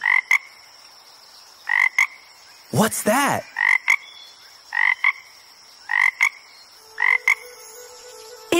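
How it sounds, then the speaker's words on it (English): Frog croaks repeating in short paired calls about once a second, clear and moderately loud over a quiet background, with a brief voice and a sliding whistle-like sound in the middle. "It's a frog!"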